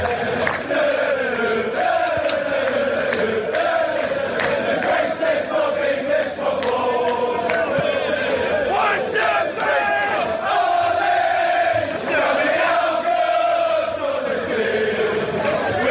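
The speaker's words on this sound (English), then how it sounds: "a snippet of the latest Man United fan song that's been doing the rounds" Manchester United football fans singing a chant together, a dense crowd of voices in a steady, rhythmic, loud unison that carries on without a break and with no one talking over it.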